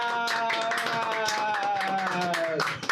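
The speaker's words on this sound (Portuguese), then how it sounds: "Hoje com coro de palmas" A podcast studio crew claps steadily and close by, the claps mixed with sustained tonal voices or music running through the whole stretch.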